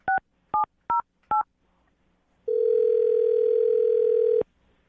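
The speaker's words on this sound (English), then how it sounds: "I'm going to dial her phone number right now." Four short touch-tone beeps are dialed in an even rhythm, then after a pause a steady telephone ringback tone sounds for about two seconds before cutting off, clean and close with no talking.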